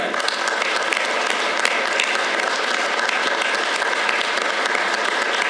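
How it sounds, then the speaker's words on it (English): Sustained applause from an audience honoring military veterans at a medal ceremony for Cedar Crest residents, dense and steady clapping filling the room for several seconds without interruption. "join me in applauding all our veterans today"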